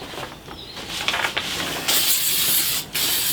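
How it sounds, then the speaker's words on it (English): Spray mount adhesive is sprayed onto the back of a garden stencil in close, hissing aerosol bursts, short puffs at first and then one longer continuous spray that briefly stops and resumes. "spray the back of this with some spray mount"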